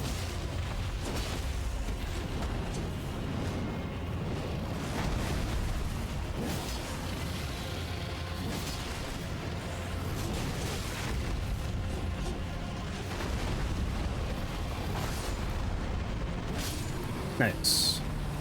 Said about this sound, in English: I don't even know what this thing's blowing fire at